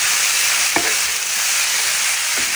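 Chopped broad beans and potatoes are stirred in a frying pan, giving a steady close sizzle with a couple of soft scraping strokes from the spoon.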